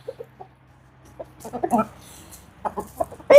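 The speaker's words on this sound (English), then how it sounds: "So whenever you have a rooster" Soft, scattered clucks from a chicken close by, a few short calls early and then a denser run of clucking, with a low steady hum underneath.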